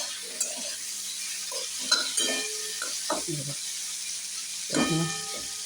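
Pointed gourd fries lightly in a pan with a steady, close sizzle and hiss, and a voice talks intermittently over it.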